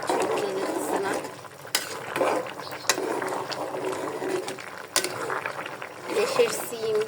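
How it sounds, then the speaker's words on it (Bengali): A spoon stirs a curry of local beans, potatoes, shrimp and dried fish in a pan, producing repeated scraping and clinking with sizzling beneath, alongside soft voices and household noise. "দেশের সিম, দেশের আলু, দেশের চিংড়ি মাছ, শুটকি দিয়ে রান্না করতেছি একসাথে।"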